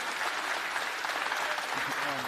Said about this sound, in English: people clapping.